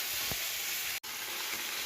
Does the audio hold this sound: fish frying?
yes